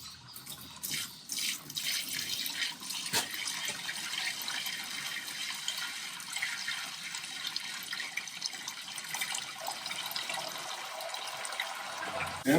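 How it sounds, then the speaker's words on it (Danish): Hot water at 80 degrees poured for brewing beer, a continuous hissing splash of liquid running into a vessel, fairly close, with a few knocks and gurgles and slight shifts in flow. "Så derfor så hælder vi rent vand på, som er 80 grader varmt."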